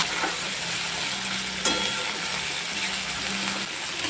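Garlic, ginger, tomato and green chili paste sautéing in a pan for a rui fish kalia, a dense steady sizzle with stirring scrapes and one sharp clink of the spoon midway.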